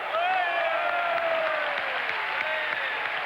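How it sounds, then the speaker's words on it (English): A football stadium crowd applauds a goalkeeper's save, a broad, distant roar of clapping and cheering that swells steadily, while a commentator's voice talks over it close up. "Olmeta gets enormous applause around me for what was a pretty bread and butter save."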